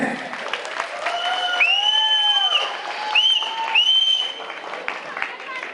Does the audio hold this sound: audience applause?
yes